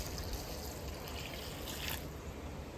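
Water pours onto potted plants sheltered under a metal roof during the monsoon, a steady splashing trickle with a brief louder gush near the end.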